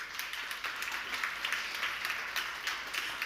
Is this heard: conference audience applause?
yes